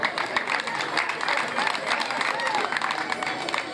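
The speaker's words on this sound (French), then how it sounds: "Je vous prie d'applaudir pour vous-même," An audience at an end-of-holiday children's programme ceremony in Njisse-Foumban claps continuously for the parents, busy and close, with a murmur of crowd voices mixed into the applause.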